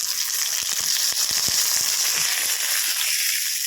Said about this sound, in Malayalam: ഈ ഉള്ളിൻ്റെ ഒപ്പം ഈ തക്കാളിനെയും കൂടി ഒന്ന് മൂപ്പിക്കട്ടോ